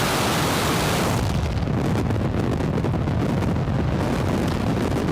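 Falcon 9 rocket launch on the West Coast carrying Maxar Earth-observation satellites: a loud, continuous roar from ignition builds into a broad, rumbling wall of noise that fills the whole span, steady and overwhelming.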